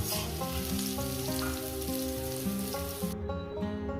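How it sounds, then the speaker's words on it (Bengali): Food fries in oil in a pan with a steady, dense crackling sizzle, heard beneath melodic background music. "দেখছেন আমি কিভাবে ভাজাটা করছি"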